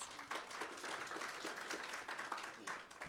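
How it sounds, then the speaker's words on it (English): Audience applause at a university Three Minute Thesis competition event, fairly quiet and distant, a continuous patter of many hands clapping with a few sharper accents throughout. "So a round of applause to you guys."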